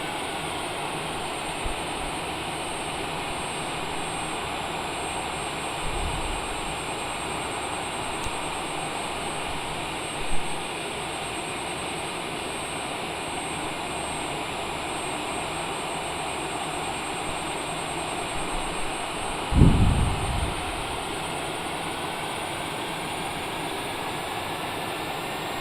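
Steady broadband roar of a Cessna Longitude's jet engines heard from inside the cabin in flight, a constant drone with a faint high whine and a few low thumps, the auto throttle adjusting thrust.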